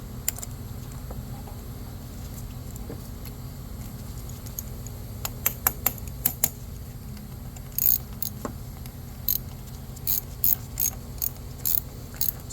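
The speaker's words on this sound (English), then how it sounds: "I'm just using a small ratchet." A small ratchet clicks in quick bursts while loosening a corroded battery terminal on a 2013 Nissan Altima, crisp close ratcheting over a steady low engine-bay hum, with no talking.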